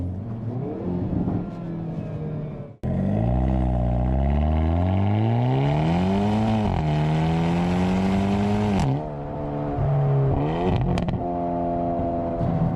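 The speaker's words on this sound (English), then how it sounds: "So you like the exhaust note in this car?" A 2022 Hyundai i30 N hot hatch engine revs hard as it accelerates in its sportiest drive mode, the exhaust note climbing through gears with brief dips at each shift, loud and close.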